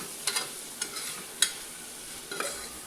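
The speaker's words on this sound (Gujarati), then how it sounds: "મસાલાને આપણે થોડી વાર માટે સાતળી લેશું।" A spice masala with coriander-cumin powder sautés in oil in a pan, a soft, faint sizzle broken by a few sharp scrapes and taps of a spoon against the pan.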